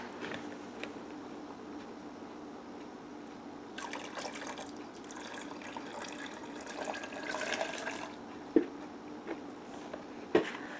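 Lye water poured into combined oils for a two-pound batch of cold process soap gives a soft, continuous trickling pour with faint splashes and a couple of sharp clinks near the end, quiet and close.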